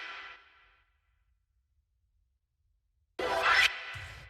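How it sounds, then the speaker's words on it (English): A deep house synth chop at 127 BPM plays as two short, bright stabs separated by a long silence. The first stab fades quickly and the second is punchier. "the first sound that we have here is a synth chop"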